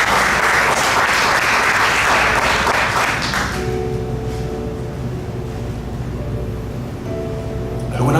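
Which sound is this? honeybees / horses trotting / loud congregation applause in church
loud congregation applause in church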